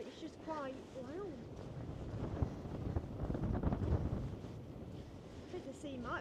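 Strong wind buffeting on a beach with the sea coming in, a continuous rushing roar that swells through the middle, with birdcalls such as oystercatchers and curlews audible at the start and end.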